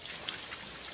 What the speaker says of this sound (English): this is the sound of a waterfall in nature